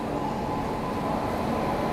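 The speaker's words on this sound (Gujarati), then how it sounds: "તો ભાઈ આપણી ટ્રેન આવી ગઈ છે ઉજ્જૈન રેલવે સ્ટેશન ઉપર." A passenger train pulls into Ujjain railway station, a steady low rumble heard from inside the coach, broadband and unbroken for the whole moment, with no talk.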